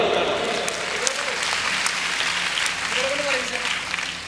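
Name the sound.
applause from training participants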